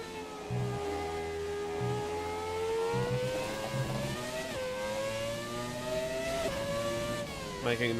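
A Williams FW18 Formula 1 car in a racing video game, its high engine note climbing steadily through the gears with brief dips at shifts, loud and continuous, while a person talks underneath.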